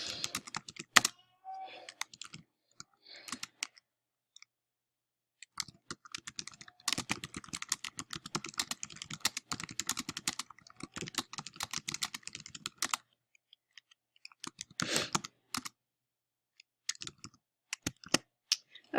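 Keystrokes on a computer keyboard come in irregular bursts of quick clicking separated by short pauses, close and fairly clear, with no talking.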